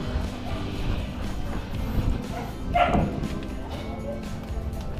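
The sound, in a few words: dog barking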